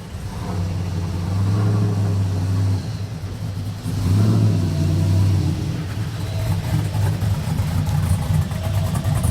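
A car engine runs steadily after its motor was put back in, a close, continuous low rumble with slight surges in revs and no talking.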